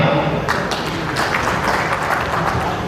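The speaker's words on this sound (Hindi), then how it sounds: "उनके लिए अगर तालियां" An audience at a broiler breeders' association meeting in Karnal applauds visiting breeders from Rajasthan, a steady wash of clapping heard from across a hall.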